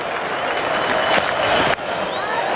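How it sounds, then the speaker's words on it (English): Huge cricket crowd at the Melbourne Cricket Ground during a 2013 Ashes Test, a broad wash of distant massed clapping and crowd noise building steadily, with a sharp thump partway through. "You can hear them starting to clap"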